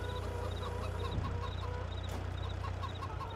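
Chickens in a farming simulator game cluck softly and repeatedly over a constant low hum, several birds overlapping in short, irregular clucks.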